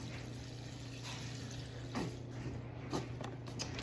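Chicken broth from cartons is poured into a pot, a continuous low liquid splash and gurgle over a steady background hum, with a few brief louder glugs.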